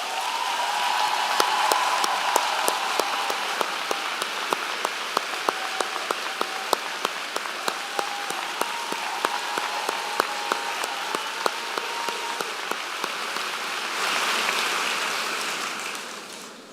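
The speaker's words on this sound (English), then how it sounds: "I would like to ask him and his family to please stand for a round of applause." Applause at a university commencement ceremony, a broad steady wash of clapping from a large crowd in a big venue, lasting over fifteen seconds and swelling again near the end, with no talk over it.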